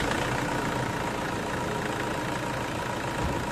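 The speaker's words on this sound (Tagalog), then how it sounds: "start ko na itong makina." A Toyota Innova engine runs at a steady idle after a drive belt and idler bearing replacement, a continuous close, even mechanical hum with no talking.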